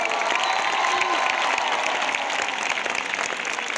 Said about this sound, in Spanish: Bueno, Málaga, aquí está la banda, un fuerte aplauso.